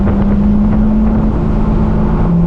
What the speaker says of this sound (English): Hopefully you can still hear me and the wind noise is not too bad.